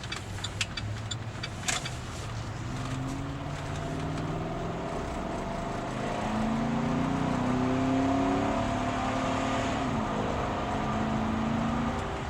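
A 2014 Chevy Silverado truck engine idles and then revs up, a low steady hum rising to a louder, fuller drone midway and holding there.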